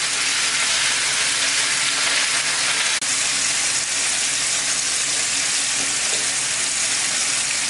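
Chicken rollatini fries in a pan with a steady, dense sizzle that runs unbroken at even loudness, with no voices over it.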